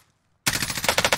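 A rapid burst of automatic gunfire in a video game breaks out after a brief silence, loud, close and rhythmic, firing without pause to the end.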